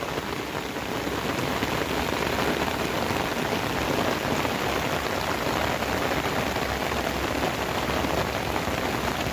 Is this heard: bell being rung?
no